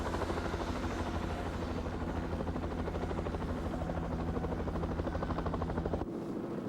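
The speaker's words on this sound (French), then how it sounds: "des messages écrits sont largués par hélicoptère" A helicopter flies overhead with a steady rapid rotor chop and engine drone, loud and constant, cutting off abruptly near the end.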